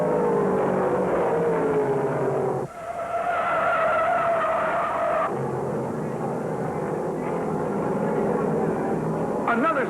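A race car spins out at Martinsville Speedway during a 1968 NASCAR Modified race, with long loud tire squeals and skidding over roaring engines, close and intense, with a commentator's voice partly audible.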